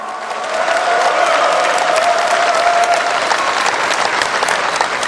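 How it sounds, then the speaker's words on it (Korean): Loud, sustained applause from a large crowd at the People's Party presidential candidate nomination convention, swelling after a half-second and continuing as a dense roar of clapping with faint voices. "새 후보들에게 우렁찬 박수로 뜨거운 성원을 보내주시기 바랍니다"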